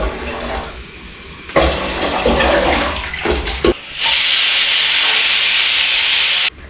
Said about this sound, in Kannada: ಎರಡು ವಿಸಿಲ್ ಆಗಿದೆ ಇದು.